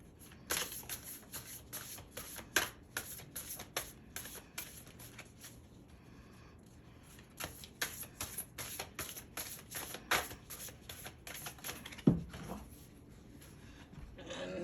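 Oracle cards are shuffled by hand in a quiet room, a steady run of soft papery riffles and flicks with a few sharper taps, heard alone at low volume.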